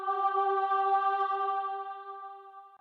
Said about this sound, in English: We started off by cutting the highs and lows of the melody to sound like this.